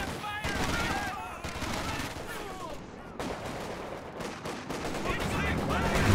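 Base howitzer barrage in Company of Heroes 2, a 2v2 match, with scattered booming impacts and gunfire crackling under a busy battle soundscape, heard mid-distance amid continuous game noise.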